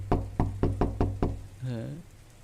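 Five sharp, evenly spaced knocks land on a door in a Hindi-dubbed South Indian film scene, loud and close, followed at once by a voice calling out.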